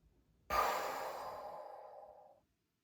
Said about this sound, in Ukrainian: Видих.